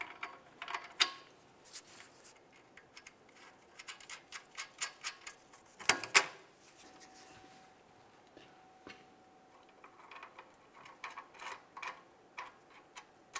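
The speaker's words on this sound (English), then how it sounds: "Now I'll just use some pliers to squeeze them down so I can start in some brand new bolts." Pliers squeeze exhaust pipe clamps on a 2011-2018 Volkswagen Jetta, giving a run of small metallic clicks and ratcheting ticks, with a sharper clattering burst midway and quieter scattered clicks afterward.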